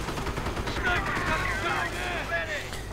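Rifle and sniper fire from the World War II strategy game Company of Heroes, a steady crackle of shots under a commentator talking over the battle.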